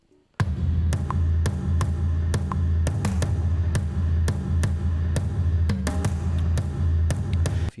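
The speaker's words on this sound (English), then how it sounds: "the more like big thumpy war drum sound" Heavy, booming drum hits strike in a steady, driving pattern over a dense low rumble, loud and close with no talking.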